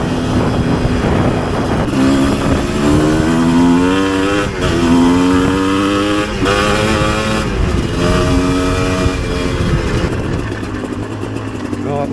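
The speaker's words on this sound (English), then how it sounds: "My first time on a dirt bike for a long time." A Chinese-made dirt bike engine drones loud and near throughout, its pitch climbing and falling as the rider works through the gears, with a voice now and then over it.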